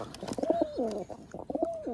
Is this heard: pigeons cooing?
yes